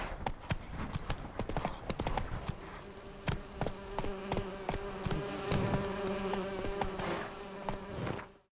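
Horse hooves clip-clop in a steady trotting rhythm in The Witcher, loud and close, with a faint droning hum underneath and the sound fading out at the end.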